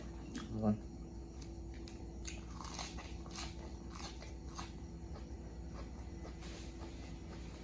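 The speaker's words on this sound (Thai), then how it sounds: "กินกับผักสลัดผักสลัดก็กรอบกรอบ" Crunchy salad greens are eaten with shrimp stir-fried in fish sauce and sweet snails, with close biting and crisp chewing under a steady low hiss and soft talking.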